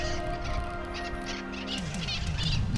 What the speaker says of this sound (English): these fucking birds are just losing their minds